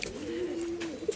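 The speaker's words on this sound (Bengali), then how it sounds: "অনেক কবুতর আছে, বাইরেও আছে, দেখেন আপনারা, বাইরে আরও 2টা খাঁচা আছে।" Caged Madrasi pigeons coo once in a low, sustained call that fades, followed by a faint flutter of bird sounds, quiet and without talk.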